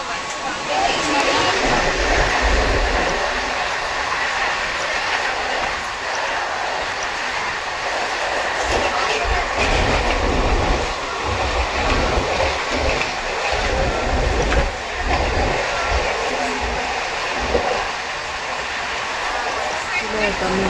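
A Mumbai local commuter train rumbles and clatters steadily throughout, with wheels rattling on the rails and voices talking faintly beneath the noise.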